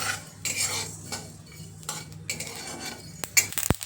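Dry seeds, coriander then sesame, scraped and stirred in a hot pan for a Kolhapuri misal masala, giving scattered metallic clinks and spoon taps with light rustling, closer and sharper near the end.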